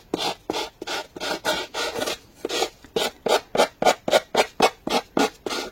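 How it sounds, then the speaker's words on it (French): A coarse-grit file slowly rounds off a corner of a keepsake box structure, giving about seventeen rhythmic rasping strokes that grow quicker and more regular, close and alone. "vous prenez une lime à gros grains et on vient donc tout doucement limer"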